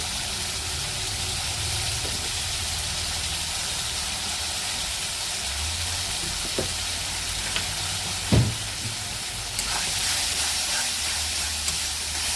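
A banana flower mixture fries in a pan with a steady, dense sizzling hiss, marked by an occasional soft knock or scrape of stirring.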